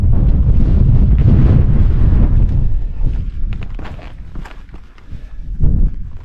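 Strong wind buffeting a microphone during a solo camp on a fell near Coniston, loud low roaring gusts at first that ease into fainter, uneven buffets with a final surge.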